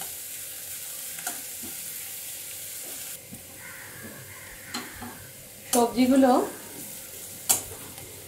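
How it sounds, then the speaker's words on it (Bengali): Beans and carrots stir-frying in a pan for veg chow mein with soft sizzling, occasional spatula scrapes and clinks, and a brief spoken word partway through. "বিনস এবং গাজরটা একটু ভাজা ভাজা হয়ে গেছে"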